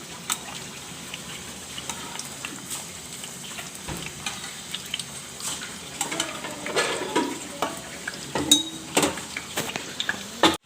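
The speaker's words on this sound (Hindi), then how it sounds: "अब मैं इसको फ्राई कर लूँगी" Papdi, flat rounds of dough, frying in hot oil for chaat: a continuous bubbling sizzle throughout, punctuated by irregular sharp clicks and scrapes of a utensil, growing busier and louder toward the end.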